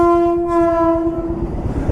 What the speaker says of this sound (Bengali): বন্দে ভারত আসছে